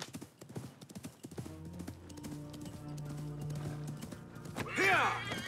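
Horse hooves clip-clop in a steady galloping rhythm in the Assassin's Creed video game, and a loud whinny rises near the end.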